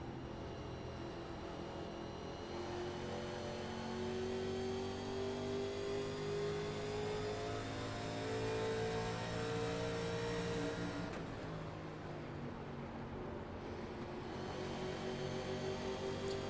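Stock car engine heard from on board at Darlington in a racing game, a loud steady droning roar with rising and falling gear pitch, a brief shift partway through and no talk.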